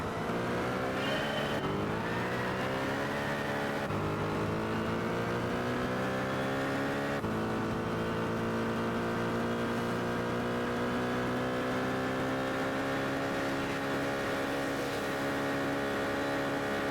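Racing car engines in Gran Turismo 6, a loud continuous whine that climbs in pitch through repeated gear shifts, each upshift dropping the tone before it rises again, with no voices.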